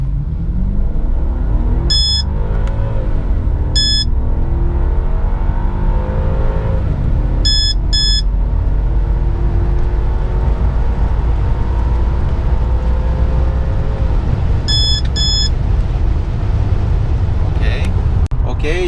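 A 2003 BMW 745i E65 engine revs and accelerates with a steady low rumble and rising, sweeping pitch, while short electronic beeps sound now and then.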